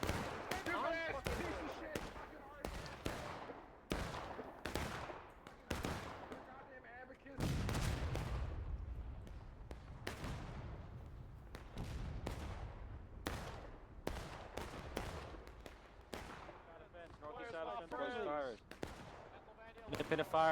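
Gunfire and artillery roar in the War of Brothers Civil War battle game, a dense run of loud cracks and booms at uneven intervals with heavier blasts mixed in and a voice talking over parts of it.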